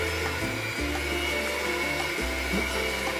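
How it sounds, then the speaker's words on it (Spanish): An electric mixer whirs steadily at a moderate pace, its motor hum shifting pitch slightly as it churns, loud and close with no talking. "usando una batidora a velocidad media, vamos a mezclar todo muy bien"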